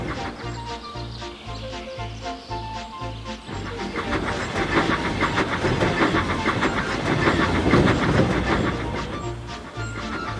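A train rumbles along the rails with a rhythmic clickety-clack, starting under cheerful music and growing louder and busier as it passes.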